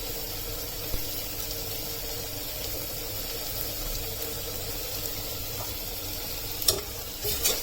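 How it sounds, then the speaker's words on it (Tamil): Tomatoes sautéing with salt and turmeric for a village-style bottle gourd dish give a steady, soft sizzle with faint stirring, a few sharper utensil clinks near the end, and no talk. "தக்காளி ஈஸியாக வதங்கி வரும்"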